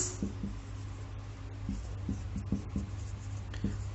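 Chalk or marker writing on a board during a chemistry lecture on dissociation, a steady scratchy stroking with short taps at each new stroke, close and continuous with no talking over it.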